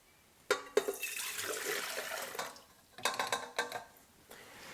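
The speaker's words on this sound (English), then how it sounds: "So we're going to add our warm water into the bowl." Warm water poured into a stand mixer bowl fitted with a dough hook for Italian bread dough, a close, quiet splashing pour that stops briefly and then resumes in shorter gushes.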